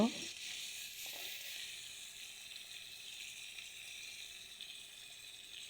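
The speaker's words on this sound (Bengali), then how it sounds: "এবার উল্টে পাল্টে ভালো করে ভেজে নিব।" Crabs fry in hot oil in a pan, giving a steady, moderately loud sizzle that holds without a break from start to end after a brief stir at the start.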